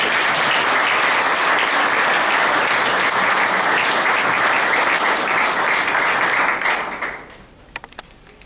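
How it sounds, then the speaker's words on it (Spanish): An audience applauds the four participants at the close of a panel discussion on Iran, the United States and Europe, steady loud clapping sustained for about seven seconds before quickly fading out, with a few scattered final claps. "Creo que los cuatro merecen un aplauso general."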